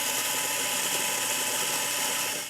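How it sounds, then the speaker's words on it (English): Mazzer Robur S electronic espresso grinder grinding espresso-fine coffee doses, a loud, steady, dense mechanical whir that runs unbroken for the whole stretch, close up with no talk. "I'm going to grind out some doses."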